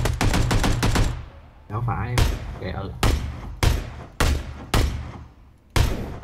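Rapid bursts of video game gunfire from a duo shooter match, a fast automatic volley followed by loud separated single shots, with a player speaking briefly over the action.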